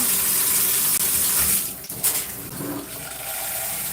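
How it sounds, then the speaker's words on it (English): Tap water runs steadily to rinse conditioner out of natural gray hair during a wash, a continuous hissing stream that briefly dips and shifts midway as the flow is adjusted, then carries on. "let's turn the water back on"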